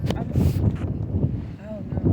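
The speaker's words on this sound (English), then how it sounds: "it's windy out here" Wind buffets the microphone in a constant low rumble while a person talks over it.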